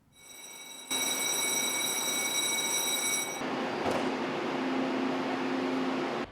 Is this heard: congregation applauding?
no